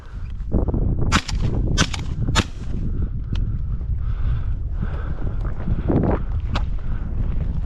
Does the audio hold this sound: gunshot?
yes